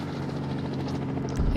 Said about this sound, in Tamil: ஹெலிகாப்டர்லாம் வந்துருச்சு